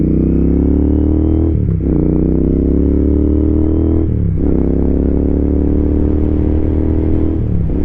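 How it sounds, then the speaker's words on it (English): Motorcycle engine idling with a deep, grunty, steady throb close by, punctuated by three brief dips as the throttle blips, with no talk. "I don't remember my bike sounding this grunty, but I like it"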